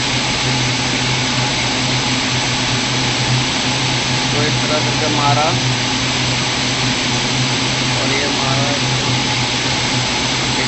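A surat jari thread machine runs with a steady mechanical hum and whir throughout, with someone talking over the continuous machine noise.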